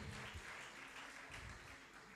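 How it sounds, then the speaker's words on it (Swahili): A church congregation at a Sunday service in Kitengela claps together in steady, dense applause. It is fairly faint and distant and holds evenly for about two seconds. "Pigia Yesu makofi mazuri."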